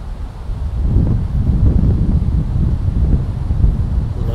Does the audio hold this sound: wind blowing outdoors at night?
yes